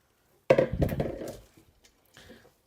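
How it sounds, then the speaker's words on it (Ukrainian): Shredded sauerkraut cabbage tipped from one container into a pot, a sudden rustling, clattering tumble lasting about a second, then a few small knocks and a brief softer scrape. "Пересиплю в кастрюльку для того, щоб перемішати її."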